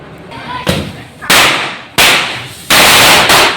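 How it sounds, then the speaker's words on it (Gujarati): Diwali firecrackers burst outdoors in a series of loud, close bangs, four or five blasts each trailing off in a noisy rumble. "બહાર બધા ફટાકડા ફોડે"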